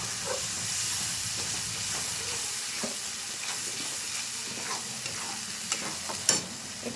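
Spice paste hits a pan with softened tomato for a spicy potato and green pea curry, giving a steady close sizzle and hiss with occasional stirring scrapes and light clinks. No one speaks.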